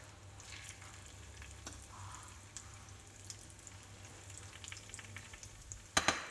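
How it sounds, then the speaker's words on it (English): Salmon fingers fry quietly in olive oil over medium heat, a soft, faint crackle with a low background hum and a few sharp pops near the end. "we'll get ready to fry them up in the olive oil"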